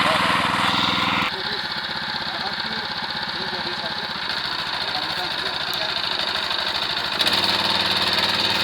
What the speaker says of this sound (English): Using this mini tiller, you can grow your farm and garden easily